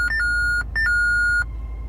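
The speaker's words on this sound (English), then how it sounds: "So you hear how it makes a beep every time I click things?" A Japanese-market aftermarket car radio gives sharp electronic beeps as its buttons are pressed, two quick chirps followed by longer sustained tones, clear and close with no talking.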